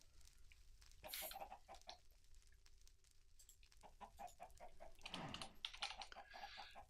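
Chicken clucking in a Minecraft modpack game, a few short clucks popping up among clicking keyboard typing and mouse sounds, with no one talking.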